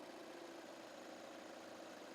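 A car engine runs at a steady idle after being switched on, a continuous low rumble with faint vibration, moderately quiet and with no one talking.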